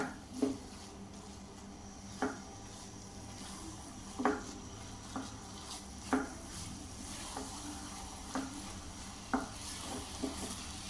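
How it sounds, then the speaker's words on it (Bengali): Sweet vermicelli with egg and milk being stirred in a pan, soft scrapes and knocks recurring every second or two over a faint, low background sizzle. "এটাকে আমি এখন খুব সুন্দর করে নাড়াচাড়া করে নেব।"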